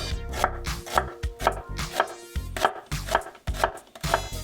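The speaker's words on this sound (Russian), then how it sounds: "репчатый лук будем нарезать полукольцами." Onion is sliced into half rings with a knife on a cutting board, a close, loud, regular series of chopping knocks about twice per second, with no talking.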